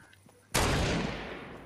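A single loud gunshot from the video game Fortnite bursts in abruptly after a quiet moment and trails off in a long, fading echo.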